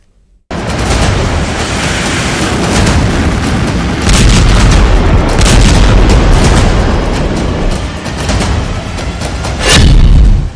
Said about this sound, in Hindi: बेरूत में भीषण धमाके